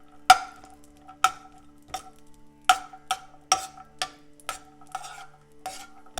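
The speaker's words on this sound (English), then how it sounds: "then fry the cashew and the raisins" Cashews and raisins frying in a ghee and oil mixture for pineapple kesari, a South Indian sweet, with a series of sharp spoon taps and scrapes against the pan at irregular intervals over a faint sizzle, close and fairly quiet.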